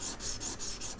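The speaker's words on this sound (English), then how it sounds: "Then what you're gonna do is take it and put it on some sandpaper" A small metal cup for a pearl ring setting is rubbed back and forth on sandpaper, giving a soft, rhythmic scraping in short repeated strokes, close and fairly quiet.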